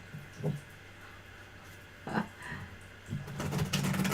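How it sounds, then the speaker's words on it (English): Someone shuffles a tarot card deck by hand close up: brief papery riffles come in separate bursts, then build into a longer, louder stretch of rapid card flicking toward the end, with no talk. "why am I shuffling this deck?"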